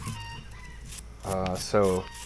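Chickens cluck and squawk in loud bursts, a couple of agitated calls close by over a faint background murmur.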